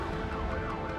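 Several ambulance sirens wail together in a busy Cities: Skylines 2 city, a dense, loud, overlapping warble of rising and falling tones that runs continuously over low traffic rumble.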